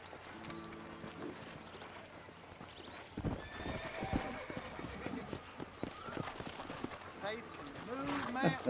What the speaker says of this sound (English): Tem um novo cavalo.